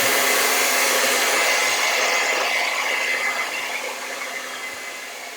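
A hair dryer blows steadily on freshly mixed acrylic paint on a palette plate, a close, loud, continuous whooshing roar that tapers slightly toward the end with no talking.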